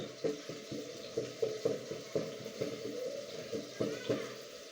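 Grated carrots cooking in a pan make a quiet, steady sizzle under a gentle bubbling hiss, with soft irregular crackles and taps throughout.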